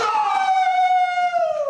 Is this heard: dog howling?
yes